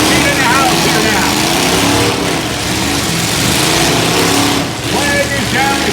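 Demolition derby cars at a Saskatoon event roar and rev continuously in a loud, dense wall of engine noise with crowd and announcer voices underneath, the roar dipping briefly before surging again.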